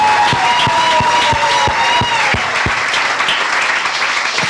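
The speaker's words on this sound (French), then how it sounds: "Can we give a big clap" Audience applause at a Father's Day celebration honouring fathers, a dense steady wash of many clapping hands lasting the whole stretch, with faint crowd murmur and a voice briefly heard over it.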